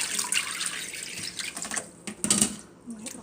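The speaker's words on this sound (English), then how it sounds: "Run that water out, just get it out of the way." Lukewarm water gurgles and rushes as it drains out of a sink after soaking Merino wool locks, splashing unevenly with short pauses, close by.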